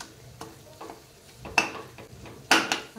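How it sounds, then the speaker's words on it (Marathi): Tomatoes fry in a spiced tempering for a Maharashtrian waal bean curry, a low sizzle broken by a few sharp spoon scrapes and clinks against the pan, close and otherwise quiet. "बघा, फोडणीमध्ये टोमॅटो जे आहे ते चांगलं भाजलं गेलं आहे।"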